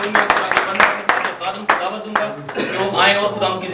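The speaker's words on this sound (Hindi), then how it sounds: "रूह कुदस के लिए जोरदार तालियां बजाएंगे।" Church congregation clapping loudly for the Holy Spirit, sharp hand claps landing in a rough rhythm over voices and a musical, sung-sounding background.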